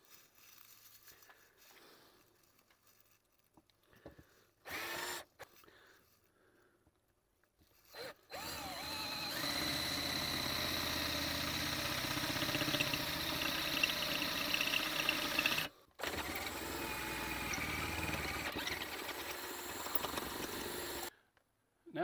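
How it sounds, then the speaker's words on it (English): A center drill grinds steadily into metal while making a trailer hitch for a Craftsman lawn tractor, a continuous whirring cut with brief pauses and some clattering and shuffling before it starts. "We'll start off with the center drill."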